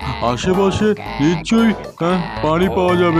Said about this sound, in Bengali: ওই তো ব্যাঙের শব্দ শোনা যাচ্ছে